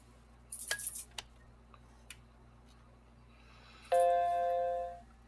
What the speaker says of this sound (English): I hear a chime.